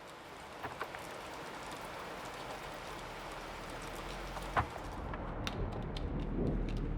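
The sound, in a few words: rain falling on a cold morning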